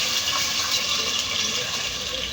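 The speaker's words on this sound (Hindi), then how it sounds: "इसके अंदर मम्मा डाल दिया है पानी।" Water gushes steadily into a cooking pot for making dal and rice with green chillies, a continuous close splashing pour that is loud and unbroken from start to finish.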